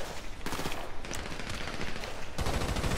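Sustained automatic gunfire in a chaotic multiplayer shooter match, dense rapid bursts that swell louder near the end, loud and continuous with no talking.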